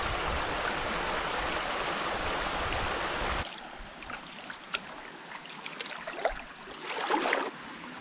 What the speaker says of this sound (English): I've been walking up this creek system barefoot